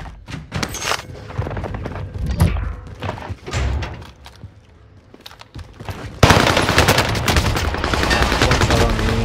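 Gunfire in a shooter video game, loud bursts of rapid shots and single thuds early, then a dense, sustained volley of fire through the second half.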